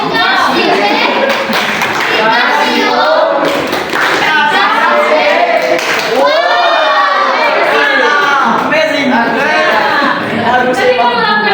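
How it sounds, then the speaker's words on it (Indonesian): Children in a classroom clap together during a lesson, loud continuous applause with excited shouting and voices layered over it. "Kasih lagi tepuk tangan."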